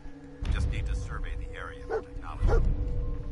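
Dog companion barking in the video game Fallout 4, a few sharp barks around the middle of the clip over steady game ambience and a low hum.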